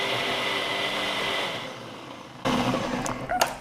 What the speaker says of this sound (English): I'm going to use my noisiest blender out